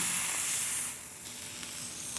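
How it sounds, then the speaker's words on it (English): Peppercorn-crusted beef tenderloin sears on a hot griddle pan with a loud, steady hiss of sizzling fat that eases slightly midway, close and without talk. "I'm trying to brown the meat really nicely on all sides."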